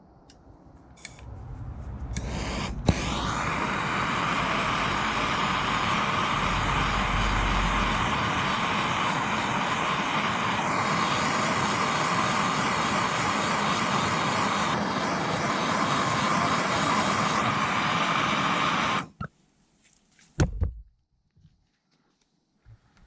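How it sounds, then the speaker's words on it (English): A small gas torch heats stubborn bolts on a BMW K100 motorcycle, its steady, loud roaring hiss running unbroken for about sixteen seconds before cutting off abruptly, followed by a few faint clicks and knocks. "get yourself a little gas torch, and heat is your friend"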